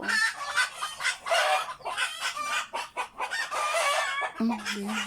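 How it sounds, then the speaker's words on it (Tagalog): Chickens cluck busily and a rooster crows, loud and continuous, with a farmyard crowd of birds close by and no talking. "maingay na yung mga manok, narinig na ba?"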